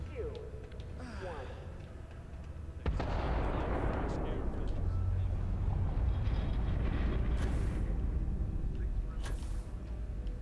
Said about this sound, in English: Particle detonation concluded.